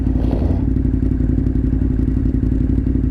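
A KTM 1090 Adventure R motorcycle roars loudly and close, its engine note steady and throbbing under gear clatter and wind rumble, with a brief higher rev at the start and no talking.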